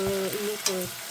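Asparagus sautéing briefly in a frying pan so it stays crisp, giving a steady close sizzle with a couple of soft stir shifts over about a second.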